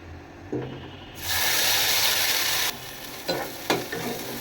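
Pea paste is dropped into hot oil in a wok and bursts into a loud, bright sizzle that holds steady, then drops back to quieter crackling punctuated by a few stirring scrapes and clicks.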